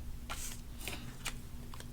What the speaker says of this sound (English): I'll just take my little scissors and go in and cut them.